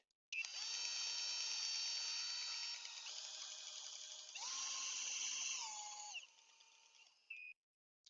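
A high-pitched power drill whines steadily for several seconds, changing pitch a few times, then stops with a short final burst, close and alone.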